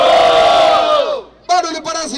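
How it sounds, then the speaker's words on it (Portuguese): A crowd at a rap battle erupts in a loud, sustained roar of shouting and cheering that fades out, then a second burst of yelling flares up abruptly and continues. "Barulho para as rimas de Sanatório."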